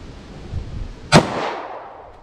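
One sharp, loud gunshot from a short-barrel .45 ACP handgun firing Winchester Silvertip ammunition outdoors, followed by a decaying echo that fades over about a second.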